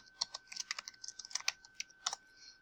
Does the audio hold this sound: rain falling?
no